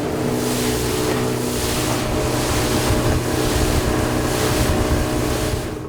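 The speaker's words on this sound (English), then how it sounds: "we're gonna do a little bit of throttle work here and see if we can get us out to our location" A boat motor drones steadily while speeding across Lake Superior, with constant wind buffeting and water rushing against the hull, loud and continuous with no voices.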